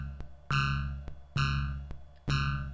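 Metallic synthesized tones from an SP-404 sampler: three bright ringing hits, each with a sharp attack and a long shimmering decay, spaced about a second apart, with softer clicks between them.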